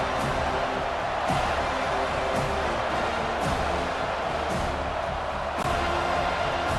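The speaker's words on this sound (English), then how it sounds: "Decibels rising as the crowd gets behind this defense on 3rd down" A stadium crowd roars for the defense on third down in a College Football 25 game between Clemson and Florida State, a loud, sustained wall of cheering and noise with occasional sharp thumps, with no talk over it.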